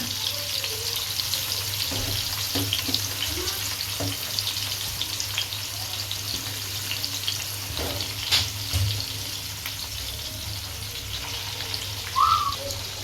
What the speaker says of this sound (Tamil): நம்ம மீடியம் ஃப்ளேமில் வச்சு மீடியம் ஃப்ளேமில் வச்சு நல்லா பொறிச்சு எடுத்துக்கலாம்